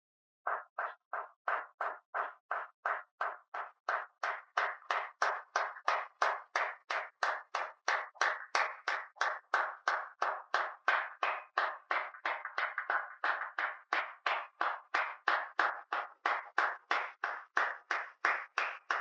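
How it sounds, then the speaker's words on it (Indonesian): Wedding guests clap together in a steady, even rhythm of about two to three claps per second. The clapping is sustained and fairly close, with no talking over it. "Mari kita berikan tepuk tangan."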